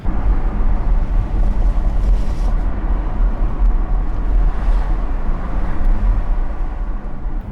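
A Porsche Taycan Turbo S electric sedan driving on the road, giving a steady, loud rush of road and wind noise with low rumble throughout and no speech.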